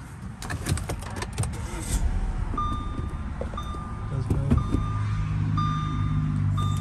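A 2015 Audi A5 Quattro starts up, with a starter whir followed by a low, steady idle, close by, while repeated electronic warning chimes ring out over it and some handling noise comes first.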